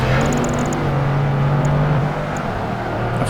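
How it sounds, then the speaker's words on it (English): A Pagani Zonda S supercar engine in Project Gotham Racing 2 on a night course in Florence, droning loud and close at a steady high pitch with a faint rise and fall, and no voices. "this time I'm using a new car, which is the Pagani Zonda S"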